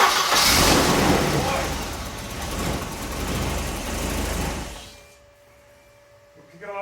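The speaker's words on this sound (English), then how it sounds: "I'm going to crank it a few times, let it build up some oil pressure." A Volvo 945 engine, unstarted for over seven years, cranks loudly with a broad roar that fills the first five seconds, then cuts off abruptly into near silence with a faint tail.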